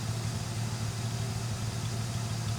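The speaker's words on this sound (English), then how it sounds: "It's just a real nice tone from the exhaust" A 1965 Ford Mustang Fastback's six-cylinder engine runs smoothly at idle, giving a steady, even low exhaust hum without rumble, continuous and close.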